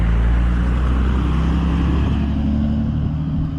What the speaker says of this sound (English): I'll let this FedEx truck go by here real quick